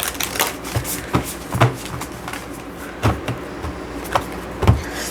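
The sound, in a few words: shuffling oracle cards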